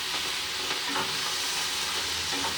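Vegetable stir fry frying in oil in a pan, a steady close-up sizzle and crackle that runs unbroken throughout with no voices.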